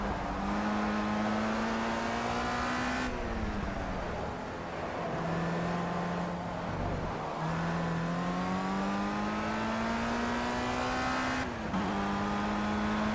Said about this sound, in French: La voiture qui se traîne un petit peu, peut-être raccourcir les rapports de boîte.